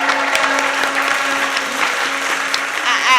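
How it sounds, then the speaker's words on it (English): Studio audience applauding themselves at a season finale taping, a small group's scattered clapping with a steady tonal hum beneath and light murmuring voices mixed in. "Clap for yourselves."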